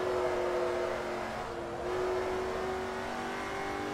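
Koenigsegg supercar engine revving in Forza Motorsport 3, a steady loud game engine drone with a sustained tone that dips briefly before rising again, heard alone without talk.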